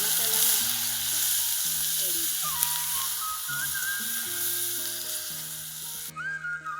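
Green chili paste sizzles in hot oil in a kadai with cumin and ginger-garlic paste, a steady bright hiss running under continuous background music.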